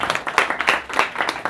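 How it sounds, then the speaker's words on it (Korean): Short burst of applause for a speaker at a youth talk event, with loud, close clapping in uneven surges that rise and fall over about a second and a half. "우리 이 선생님한테 큰 박수 보죠"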